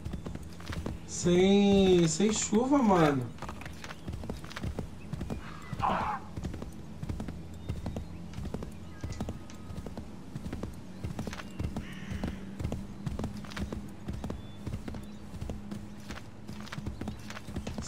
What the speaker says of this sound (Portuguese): bem melhor você andar de cavalo